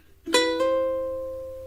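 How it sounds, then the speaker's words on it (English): On a ukulele, a single first-string note is plucked and then hammered on, giving two clear attacks in quick succession before the tone rings and slowly fades, with nothing else audible. "we repeat that hammer on, but with just the 1st string playing"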